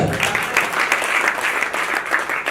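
A church congregation bursts into steady applause, many hands clapping in a dense sustained patter at moderate loudness, with no speech over it.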